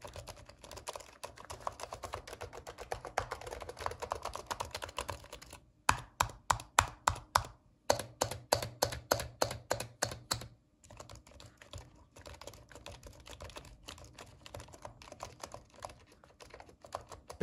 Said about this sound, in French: je vous mets un petit extrait de frappe sur ce clavier